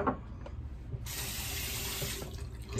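Cold water running from a tap while shaving gear is rinsed, a steady close splashing stream that starts abruptly about a second in and continues evenly to the end, with no talking.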